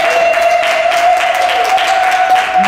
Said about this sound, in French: applaudissements pour Jésus.